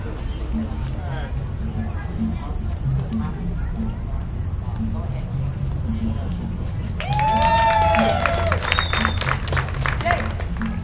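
Crowd applause and cheering break out for street performers at Boulder's Pearl Street Mall, rising from a steady murmur of outdoor chatter into loud clapping with whoops and whistles near the end.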